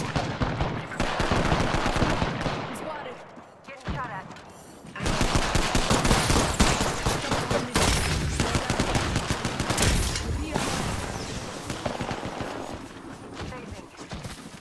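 Sustained automatic gunfire in the Apex Legends battle royale, loud, dense bursts nearly throughout with a short lull around the four-second mark, mixed with game effects and some voice.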